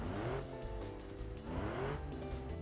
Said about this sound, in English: this is a configuration with a three-cylinder engine, which has in mind fuel economy